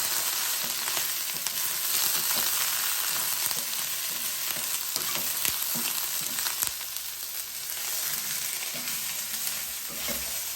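Chicken, onion, broccoli and carrot sizzle loudly in a hot pan, a dense steady hiss with crackling pops and occasional stirring scrapes, close up and without talk.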